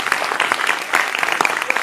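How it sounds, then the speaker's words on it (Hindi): An audience at a devotional talk claps briskly in a dense, continuous burst of applause, close and fairly loud, with no speech over it. "तो बजाइए ताली"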